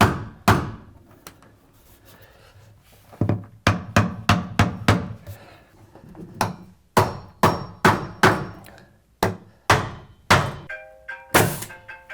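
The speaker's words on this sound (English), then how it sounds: "when you're seeing me hit this with a hammer" A hammer drives a chisel into a wooden countertop in close, sharp strikes, first a few scattered blows and then series of rhythmic hits with short gaps between.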